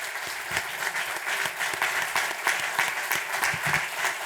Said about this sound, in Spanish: quiero empezar agradeciendo con un gran aplauso de todo el público al equipo peruano